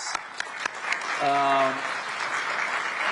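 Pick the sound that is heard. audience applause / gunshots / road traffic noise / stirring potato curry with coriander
audience applause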